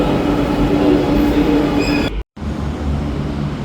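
A Kuala Lumpur metro train runs loud and close, its steady rumble and rolling wheel noise filling the carriage before a brief sharp dropout, then resuming at full strength.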